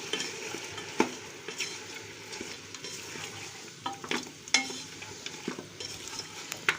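Mutton and peas curry seasoned with garam masala being stirred in a pot, with a spoon scraping and clinking against the metal over a soft sizzle, in uneven close strokes.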